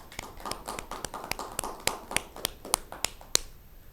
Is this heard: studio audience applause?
yes